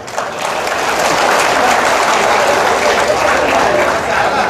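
Audience applause in a hall, a thick continuous roar of clapping that swells quickly after a quiet start and holds loud and steady.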